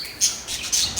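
Pet parrots give short, bright chirps and squawks, three or four quick calls in a row, close and clear with no talk.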